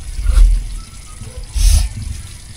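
A cup of water is poured into a cooking pot in two short splashing pours close by, with low gurgling between them.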